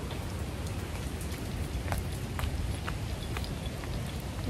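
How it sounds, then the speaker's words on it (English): Steady rain falls and patters on a hard surface, close and continuous, with scattered sharper drips; no talking. "Ooh, it's raining."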